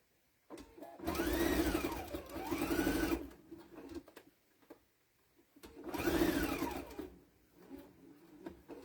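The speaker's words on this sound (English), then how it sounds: "I'm going to sew about from here so I can fit that in." A sewing machine stitches a flag potholder in two bursts of rapid, even whirring, the first about two and a half seconds long and the second shorter, with a quiet pause between them.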